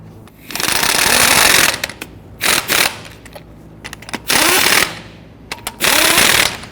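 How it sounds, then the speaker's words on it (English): Lug nuts are run onto the wheel studs of a 2010-2019 Ford Taurus during a front brake hose job, heard as several short, loud bursts of impact-tool rattle separated by brief pauses. "Let's go ahead and get our lug nuts started. And once we get all these started, we'll go ahead and snug them down."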